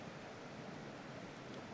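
Steady broadband rush of a creek flowing close by outdoors, a continuous even wash of water with no talk over it.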